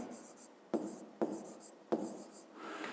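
Pen strokes on paper up close as a math exercise is written out by hand, with several sharp taps and short scratchy bursts in a quiet room.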